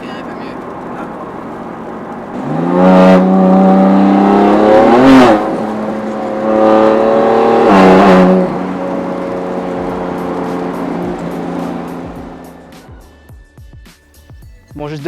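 A BMW M2 Competition making 770 horsepower accelerates hard in two loud, close surges, its engine note climbing steeply through the gears before easing off and fading away.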